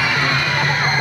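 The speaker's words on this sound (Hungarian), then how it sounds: "Figyelem! Nagy sikítás!" A crowd of children in a concert hall audience screams loudly and continuously, a dense sustained high shriek with no pauses.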